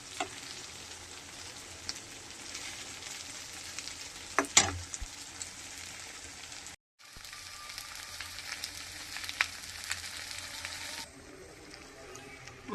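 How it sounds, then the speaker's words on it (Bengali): Giant freshwater prawn heads frying in a pan, a continuous close hiss of sizzling oil with a few sharp pops and stirring knocks, a short break midway, no talking. "এই যে এবারে এটাকে পুরো ভাজা ভাজা করে আমাকে টান টান করে ভাজতে হবে।"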